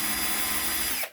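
A power drill fitted with a 9.5mm bit bores a hole into a control box, giving a loud, close, steady whine for about a second before it cuts off abruptly.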